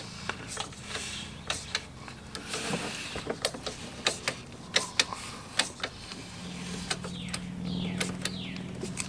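Hitch bolt of a Thule Easy Fold XT 2 bike rack being cranked down with a hand tool, a run of sharp ratcheting clicks and metallic creaks, close and fairly quiet.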